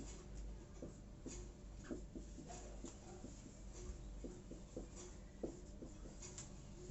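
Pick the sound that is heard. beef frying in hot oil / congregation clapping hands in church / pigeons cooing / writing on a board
writing on a board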